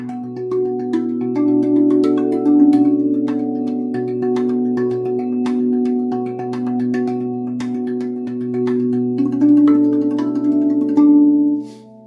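A RAV Vast steel tongue drum is struck on the rib with the hands, producing a close series of short percussive taps over sustained, ringing metallic tones that swell and decay together.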